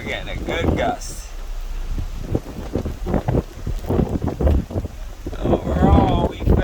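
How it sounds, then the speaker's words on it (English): A strong wind gust from Hurricane Nicole buffets the microphone with a loud, rumbling roar beside a lake. The gust rises and falls in uneven surges, and a person talks over it. "We're getting a good gust."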